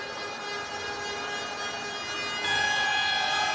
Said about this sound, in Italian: Suona la sirena, finisce qua